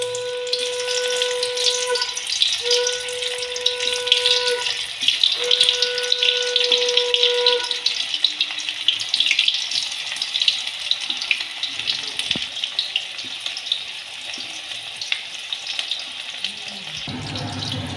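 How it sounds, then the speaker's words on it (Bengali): Baby corn fries in hot oil in a wok, giving a constant close hiss and sizzle for a chilli baby corn dish, with a few faint tonal whines early on and the noise cutting off abruptly at the end. "বেবিকর্নগুলো ভেজে নেব।"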